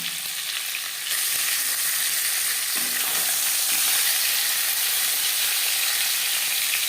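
Pangas fish frying in oil, a loud, continuous hissing sizzle that grows fuller after the first second and holds steady throughout, with no voices.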